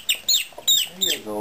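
Chickens on a small Canadian permaculture farm give several short, close clucks and squawks in quick bursts, with a faint low murmur underneath.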